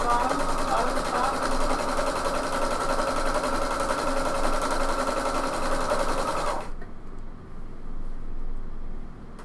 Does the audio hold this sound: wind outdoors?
no